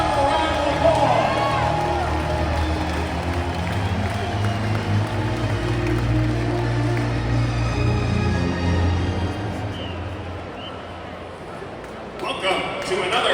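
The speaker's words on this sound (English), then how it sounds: "How about a round of applause?" A large stadium crowd at a Miami Hurricanes college football game applauds and cheers the Ring of Honor class, a steady, dense roar of clapping and voices that lasts throughout, with a public-address voice over it.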